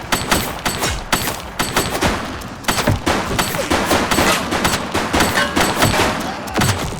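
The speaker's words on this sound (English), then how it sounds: "shooting!" Gunfire in the police game The Precinct: a loud, sustained exchange of sharp shots over several seconds, with rapid volleys and single cracks in uneven rhythm, close and dominant.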